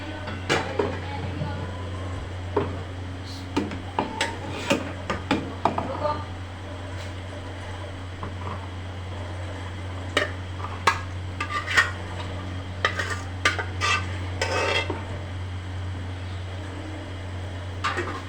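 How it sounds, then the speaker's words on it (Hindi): Meat is mashed into haleem with a wooden ghotna, a series of knocking thuds and clattering strikes against the pot, irregular bursts over a steady fan-like hum. "अब ये गोश्त को इसके अंदर हम अच्छी तरह से घोट लेंगे"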